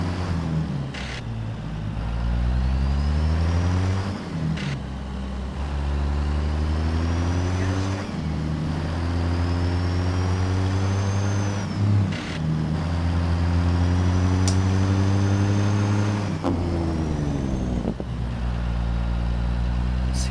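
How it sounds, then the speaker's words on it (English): Rezbilt 389 truck in American Truck Simulator, its Jake brake chattering loud and continuous with deep rumbling engine harmonics that rise and fall through several gear changes. "See, now doesn't that Jake sound better than the base game?"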